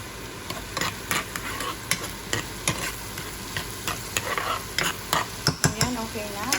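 Minced garlic sautés in melted butter in a pan, a close steady sizzle broken by frequent scraping taps of a spatula as it is stirred, with no talk.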